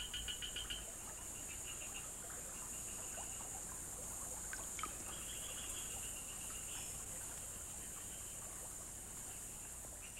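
Dense, steady chorus of insects in a mangrove swamp, a continuous high buzzing drone with faint intermittent chirps and calls layered over it, no voices.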